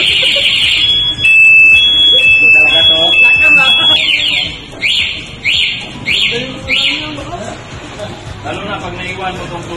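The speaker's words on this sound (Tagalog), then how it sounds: "Mag-alarm siya pag pinagalaw." Motorcycle anti-theft alarm triggered by movement: shrill electronic tones, first a held warble, then a fast run of repeated chirping beeps, loud and close, with voices talking underneath.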